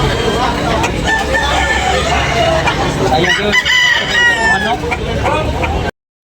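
A rooster crows loudly over a noisy background of clucking fowl and murmuring voices at a live chicken market in Tabunok, Talisay, Cebu, with a couple of crows rising through the middle.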